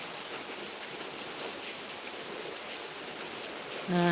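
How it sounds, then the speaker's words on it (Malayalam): Heavy rain pours down steadily in Kothamangalam, Kerala, making a dense, even hiss throughout, with a brief louder tone right at the end. "കോതമംഗലത്ത് സൂപ്പർ മഴയാണ്"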